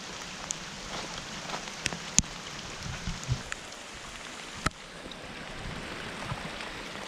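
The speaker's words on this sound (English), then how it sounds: "It is like super rainy. Like a rainforest." Heavy rain falling in a rainforest at Nahwitti Lake, a soft continuous patter of drops on leaves and surfaces with scattered sharper drips, fairly quiet and with no talking.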